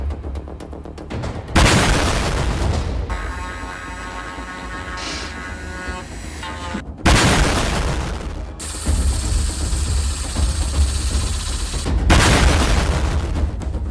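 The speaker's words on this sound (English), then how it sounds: "Lots of explosions." A string of heavy booming explosions, loud and close, with several sharp blasts that each roll into a long rumbling wash of debris and noise, set in a woodworking action-trailer parody.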